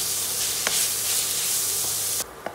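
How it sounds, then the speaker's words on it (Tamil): Chopped onions and finely cut curry leaves fry in a pan with a loud, dense sizzle that holds steady for about two seconds, then cuts off abruptly, with a couple of light clicks. "போட்டு நல்லா இதை வதக்குவோம்"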